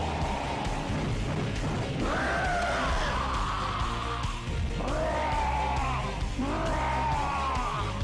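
King Boom Boo, the ghost boss from the Sonic Adventure 2 video game, lets out loud, wild screaming and cackling voice effects that rise and fall in repeated bursts over a dense, booming game soundtrack.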